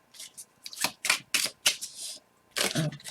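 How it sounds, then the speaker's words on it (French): Tarot cards handled and shuffled on a table, giving a run of crisp, dry riffling bursts with short pauses between them, close and fairly quiet, with no voices. "on va recouvrir les cartes."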